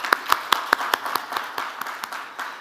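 Scattered hand clapping from an audience applauding guest speakers, a dozen distinct sharp claps in an uneven rhythm, fairly close and fading slightly toward the end.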